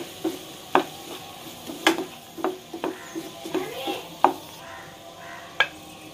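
A spoon stirs and scrapes green chillies around a hot pan for a Malabar chicken banki snack, giving a run of sharp, irregular clinks and scrapes over a soft sizzle, close up.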